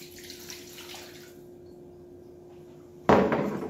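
Water suddenly gushes from a tap, loud and close, after a few seconds of quiet room noise with a steady hum, running on to the end.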